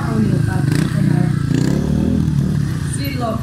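A motorcycle engine revs hard and steadily at a stunt show in Lieksa, Finland, loud and close with continuous droning and some clatter, voices faintly mixed in.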